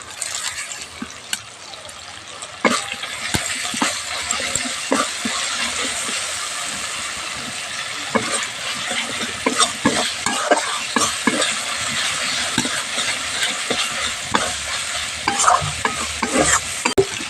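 Masala with curry leaves, potatoes and eggplant sautéing in a pan while being stirred, a constant loud sizzle with repeated scraping and tapping of the spatula against the pan.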